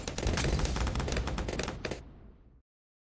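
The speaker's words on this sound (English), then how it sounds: "Launches a barrage of bouncing ice balls following target priority." A video game ability fires a barrage of bouncing ice balls: a loud, rapid run of clattering, gunfire-like bursts for about two seconds that then cuts off abruptly.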